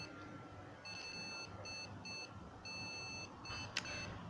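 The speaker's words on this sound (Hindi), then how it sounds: "तो इस तरीके से यहाँ पे जो है बीप चालू हो चुकी है।" A PC motherboard's small internal speaker gives a series of short, repeated POST beeps in an uneven rhythm over steady fan hum, faint overall.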